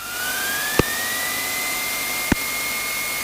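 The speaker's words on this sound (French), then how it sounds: "Régime moteur à 1000." A light aircraft engine idles steadily at 1000 rpm with a loud continuous drone and a slowly rising whine, broken by two sharp clicks.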